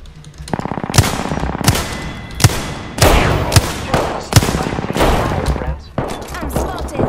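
Gunfire in the Apex Legends video game rattles in dense automatic bursts punctuated by sharp, heavy single shots, loud and close throughout with barely any pause.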